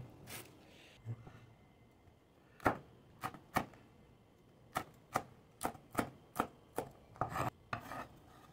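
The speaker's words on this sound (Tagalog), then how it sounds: "Ito guys, itong sili yung ating hiwain." A knife chops chili peppers on a cutting board in a rapid series of sharp, close taps, sparse at first and then coming in quick regular bursts.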